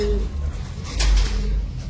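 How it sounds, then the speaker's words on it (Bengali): A racing pigeon coos close by in deep, rolling bursts, with a louder swelling coo in the middle over a low background hum. "কবুতর কবুতর কবুতর কবুতর কবুতর কবুতর"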